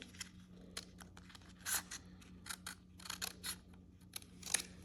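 Scissors snip through junk journal paper in a series of short, crisp cuts, some quick and close together, others spaced apart, over a quiet background hum with no talking.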